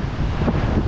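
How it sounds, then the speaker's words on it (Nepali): Strong wind gusting through a mountain valley in Nepal, a loud, steady roar buffeting the microphone throughout, with no voices. "क्या हावा चाहिँ यतिलाई यस्तो चल्यो"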